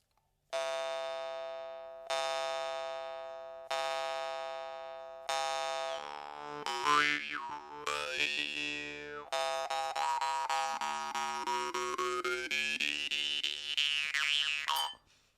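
Twanging Iverson munnharpe jaw harp with ringing, bell-like notes: several evenly spaced plucks that decay, then a long wavering melodic passage with shifting overtones.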